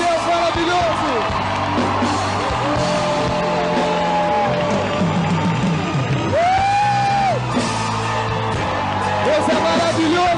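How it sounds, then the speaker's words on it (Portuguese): A church congregation applauds and cheers in a loud, sustained wash of crowd noise, with rising whoops and shouts breaking through. "Vamos aplaudir o Senhor."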